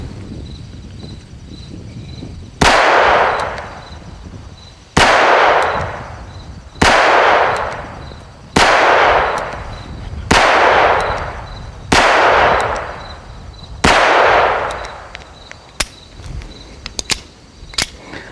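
Seven sharp, loud gunshots from a Phoenix Arms HP25A pistol at a shooting range, spaced a couple of seconds apart and each trailing off with echo, followed by a few faint clicks and clatters.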